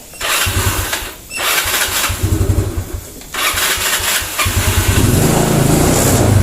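A Yamaha Mio Sporty scooter engine is cranked and started several times in short bursts, each start catching briefly and then cutting out before the motor finally runs and idles nearby.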